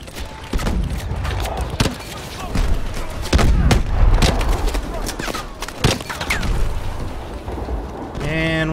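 Gunfire from Call of Duty: Advanced Warfare, with sharp shots scattered through a busy game soundscape and a voice talking over it.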